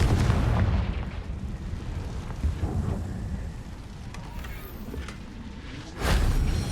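A Confringo fire spell goes off in Hogwarts Legacy, a deep rumbling blast at the start followed by a long rolling roar, then a second loud burst near the end.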